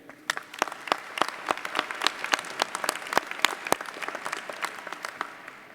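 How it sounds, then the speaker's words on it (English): Audience at a Harpur College of Arts and Sciences commencement applauding, with dense, continuous clapping from many hands in a large hall, steady and moderately loud throughout. "Please hold your applause until all have been introduced."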